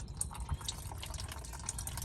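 Engine coolant draining from a 2008 Jeep Wrangler JKU during water pump work, giving a quiet, steady trickle and drip of liquid with no one speaking.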